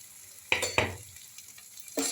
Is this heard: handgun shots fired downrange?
no